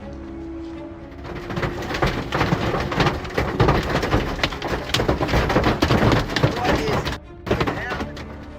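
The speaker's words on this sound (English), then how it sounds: "Unbelievable cricket ball-sized hail slammed into Queensland," Cricket ball-sized hailstones slam down during a Queensland storm, a loud, dense clatter of hard impacts that builds after the first second and keeps pounding, with a brief dip near the end.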